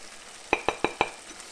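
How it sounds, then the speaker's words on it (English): Four quick, evenly spaced clinks of a utensil against a pot as basmati rice simmering with turmeric is stirred, close and distinct over a faint background hiss. "Give it a stir."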